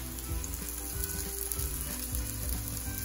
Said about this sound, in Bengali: এক এক সাইড 2 থেকে 3 মিনিট করে ভাজলেই রেডি হয়ে যাবে।